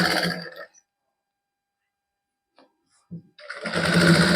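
A sewing machine stitches a lined suit in two quick whirring bursts, one at the start and one at the end, with near silence and a couple of small clicks between them.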